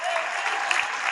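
A crowd at a political rally in a banquet hall claps steadily in a dense burst of applause for a chief, with no break in the sound.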